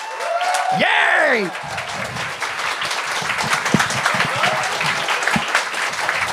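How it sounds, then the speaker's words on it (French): Studio audience applause on a TV game show erupts as host Coco Béliveau is welcomed, with a whooping cheer and shouts over the clapping, which then carries on under talk. "Mesdames et messieurs, un tonnerre d'applaudissements pour Coco Béliveau!"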